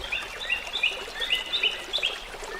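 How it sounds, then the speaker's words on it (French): Bright, high bird chirps repeat in quick short phrases over a soft outdoor background, fairly close and clear. "le chant des oiseaux"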